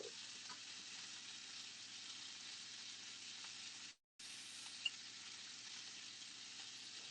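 Bacon sizzles steadily in a very hot pan, a dense continuous crackle close by with one brief break partway through and no talking.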